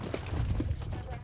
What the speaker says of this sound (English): Fun to watch the horses run